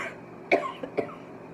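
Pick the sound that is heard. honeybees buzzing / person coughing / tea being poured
person coughing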